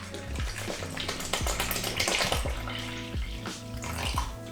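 Water pours from a bottle into a bowl on a kitchen scale for sourdough bread dough, a continuous close gurgling stream with rhythmic glugging pulses from the bottle neck.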